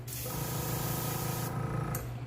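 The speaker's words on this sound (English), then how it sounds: "Give it a couple sprays." A paint spray gun test-sprays before repainting old fishing lures, a loud close hissing burst lasting about two seconds with a motor-like hum beneath and a brief extra puff near the end.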